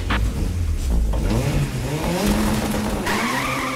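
At a Futuroscope ride, a race car skids with squealing tires and a revving engine, loud and close, its pitch sweeping upward before a sharper squeal near the end.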